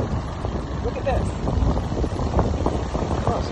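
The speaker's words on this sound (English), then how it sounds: "It seems windy because it is." Wind blows outdoors and buffets the microphone in a steady, rough rush that continues throughout, with faint talk beneath it.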